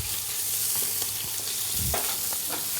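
Gambas and scallops sizzling in a hot pan, a steady loud frying hiss with occasional stirring scrapes and crackles, close and without talk.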